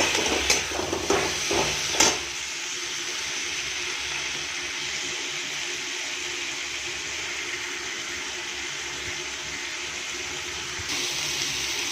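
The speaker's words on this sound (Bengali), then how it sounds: "কাঁচা লঙ্কা দিয়ে এবার ভালো করে নাড়াচাড়া করে নেব" Pointed gourd with ginger paste, grated tomato and green chilli in a pan, a few scraping stirs and clinks at the start, then a steady low sizzle and bubbling that continues alone.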